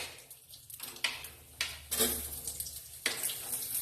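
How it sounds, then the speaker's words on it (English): Potatoes go into a hot pan for Bengali shukto, making several short bursts of sizzling and clattering, each flaring up and settling into a soft frying hiss. "So I'm going to add these potatoes first."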